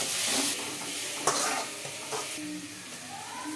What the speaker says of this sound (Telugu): ఇవి రెండు పచ్చిమిరపలు పోయే పోయే వరకు ఫ్రై చేసుకోవాలండి